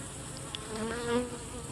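A strong honeybee hive during queen-rearing work, its insects buzzing as a steady, low, continuous drone at close range, with a few individual bees passing slightly louder for a moment.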